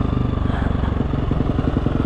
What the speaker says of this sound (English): It's the first time I'm stunt riding a